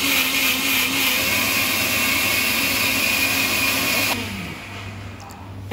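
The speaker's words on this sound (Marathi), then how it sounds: "जे आपण सगळं त्यातमध्ये टाकलं आहे ते आपण मिक्सरमध्ये वाटायचं." A Prestige mixer grinder grinds a masala paste with a loud, steady high-pitched whine and buzz, then the motor cuts off and the sound winds down near the end, with no talk.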